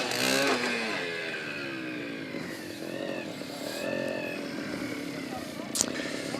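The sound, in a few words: trials motorbike climbing an obstacle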